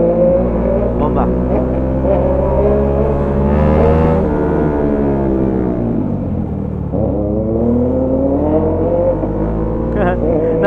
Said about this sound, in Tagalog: Guys, nagmumukhang maganda rin yung tunog ng motor ko,